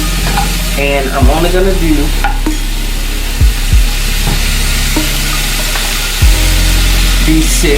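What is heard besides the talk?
breakfast sausage patties sizzling in a pan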